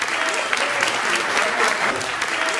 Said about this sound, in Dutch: Geef hem nog een dagelijks applaus, dames en heren.